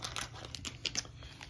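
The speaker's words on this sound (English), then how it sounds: "You get a nice little plastic bag to keep that in." A small plastic bag crinkles faintly close by, with quick irregular rustles and crackles and no talking.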